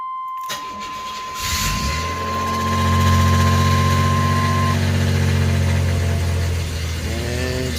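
A 1989 Chevrolet Celebrity's 2.8 V6 starts and settles into a rough, uneven idle with a misfire, loud and close, its low engine drone steady and alone after a brief steady tone at the start.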